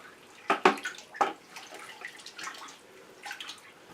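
Water sloshing as a fur hide is stirred in a salt brine soak, with a few close splashy swishes early on, then softer scattered liquid movements and drips, no talking.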